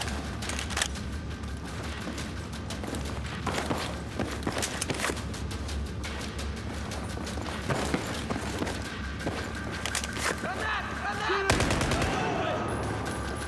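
Gunfire in a video game firefight, with sharp shots and short bursts popping at irregular intervals over a continuous rumbling background, alongside scattered footsteps and brief voices.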